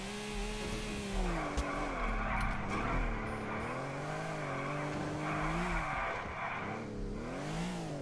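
Car in GTA 4 skidding and sliding with tires squealing over a wavering engine drone, loud and close, repeated squeals across several seconds.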